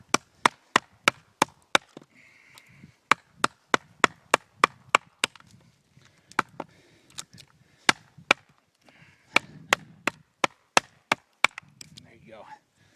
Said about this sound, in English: More chopping with the BK2